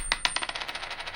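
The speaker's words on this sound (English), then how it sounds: "Coin falling on the table." An AI-generated coin hits a table and bounces, its metallic clinks quickening and fading into a rattling spin as it settles.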